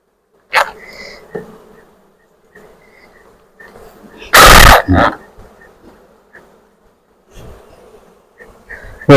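Honey bees buzz around a honeycomb being harvested with smoke, a close, intermittent droning with sharp loud bursts near the microphone and quiet stretches between.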